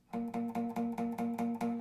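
A guitar chord strummed eight times in a steady rhythm, each strum dull and buzzy rather than ringing clearly, close and fairly quiet.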